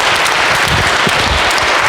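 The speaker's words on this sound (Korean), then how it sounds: "우리 회장님한테 감사 박수 부탁합니다." A church congregation at Sunday Mass applauds in thanks to the parish council president, a dense, even, sustained clapping filling the hall without pause.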